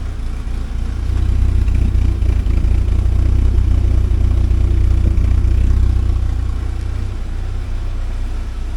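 A 1979 Porsche 924 engine idles steadily just after a timing belt fix, a loud, even low rumble running the whole time with no one talking.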